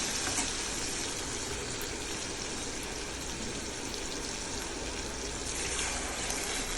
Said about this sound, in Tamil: 1 கிளாஸ் தண்ணியை ஊற்றுறாங்க.